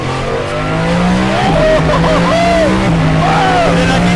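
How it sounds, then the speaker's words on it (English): A car engine revs loudly and steadily, its pitch climbing and dropping with each gear change, close up and dominating the scene. "I love the engine! It's amazing!"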